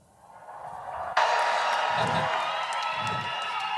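Loud crowd roar of cheering and applause at a Liberal leadership convention, swelling in and then bursting up sharply, with voices shouting over the steady din.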